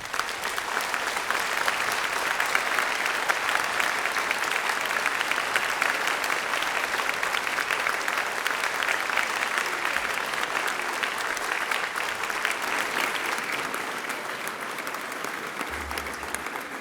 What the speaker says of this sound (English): Let's applaud Professor Ian Young.